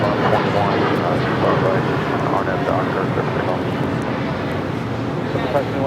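A DHL cargo plane arriving from Tokyo lands at Los Angeles airport, its engines producing a loud, continuous roar with rumbling wind noise throughout.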